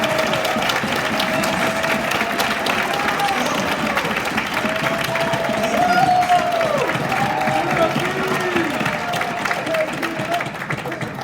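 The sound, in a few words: audience applause and cheering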